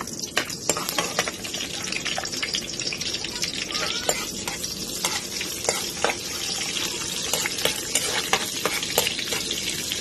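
Onions sautéing in a frying pan for ginisang patola, a steady close sizzle with scattered clicks and scrapes from stirring running throughout, no voices.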